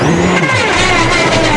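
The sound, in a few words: rally car with broken wheel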